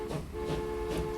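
Freight train rolling along in Transport Fever, a steady mechanical rumble with tonal hum and three soft swelling pulses of wheel and carriage noise, continuous and moderately close.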